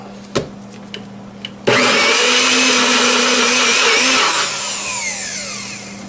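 Blender grinds hot peppers for hot sauce, starting abruptly after a couple of small knocks and running loud and steady for several seconds before the whine eases off.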